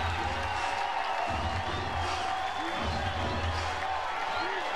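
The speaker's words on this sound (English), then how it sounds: "And the crowd is ignited on a foul ball." A college softball crowd cheers and claps after a foul ball in a stadium game between Florida State and Texas Tech, a steady diffuse roar with occasional whoops, with a commentator speaking over it.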